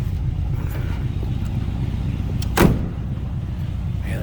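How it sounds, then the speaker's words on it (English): A 1940 Cadillac Series 60 touring sedan door swings shut with a single solid, close thunk midway through, set against a steady low rumble of the idling engine. "that door closes nicely"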